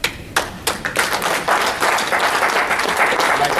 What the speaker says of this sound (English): with a rousing hand clap from you